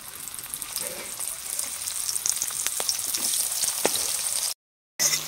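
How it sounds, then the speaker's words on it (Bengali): Onions sizzling in hot oil, a steady crackling hiss dotted with sharp pops, close by with no talking; it cuts out briefly near the end. "পেঁয়াজটা লাল লাল করে ভেজে নিতে হবে"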